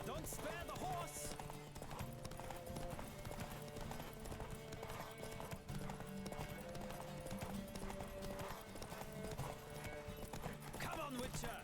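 Roach, a horse in The Witcher 3, gallops steadily through a race, hooves clip-clopping in a continuous rhythm over game music, with an occasional whinny and a voice talking at times.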